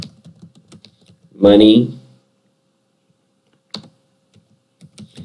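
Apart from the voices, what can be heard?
typing a query on a computer keyboard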